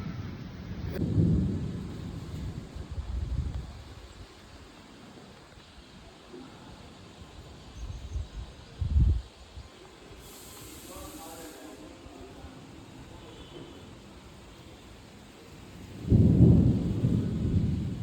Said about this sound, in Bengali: কীরকম বিদ্যুৎ চমকাচ্ছে ওইদিকে। খুব বৃষ্টি হবে আজকে